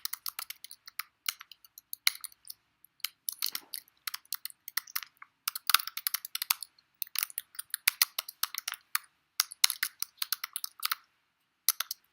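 Rapid clicking of computer keyboard keys as text is typed, coming in quick bursts with short pauses between words, close and fairly quiet against a silent background.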